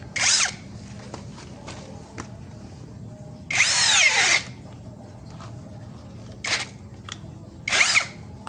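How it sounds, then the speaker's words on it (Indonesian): A drill fitted with a 24 mm spade bit bores into guava wood at low speed, giving four separate bursts of high whining and grinding, the longest near the middle, with quiet pauses between them. "Mata bor kipas 24 mili. Ini kayu jambu ya."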